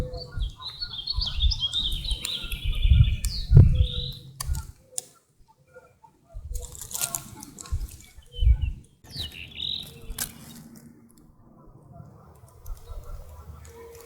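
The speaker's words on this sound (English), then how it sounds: "Hearing the bird sounds made me want to capture more sounds" Birds sing in the wilderness with scattered high chirps and short song phrases, fairly close but intermittent, mixed with rustling, handling noise and low thumps, and long quiet gaps between calls.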